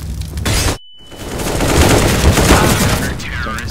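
Rapid automatic gunfire bursts in a CS:GO competitive match, loud and close, cutting briefly to silence before a long stretch of dense firing and impacts.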